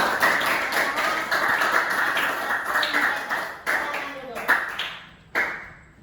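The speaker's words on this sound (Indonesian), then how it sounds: "Tepuk tangan dulu untuk teman kalian." Classmates in a school classroom clap for their peers, a loose patter of hand claps of moderate loudness broken by short pauses and sharp single claps, with a teacher's voice heard over it.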